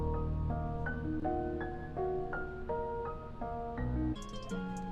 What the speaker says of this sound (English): So I started out with this melody loop that I found in a cymatics pack.